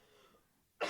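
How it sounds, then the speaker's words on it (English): A single short cough bursts out at the very end after near silence, close and fairly sharp, from a podcast host. "I keep coughing."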